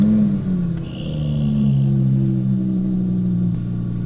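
A deep V10 engine idle from a sub-zero cold start in an Audi R8 V10 RWD rumbles steadily with low droning tones, a brief revving swell near the start and a faint high whine above.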